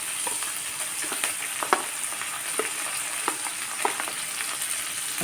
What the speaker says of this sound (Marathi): छान कांदा परतून घ्यायचा आहे.